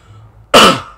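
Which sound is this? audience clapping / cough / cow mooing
cough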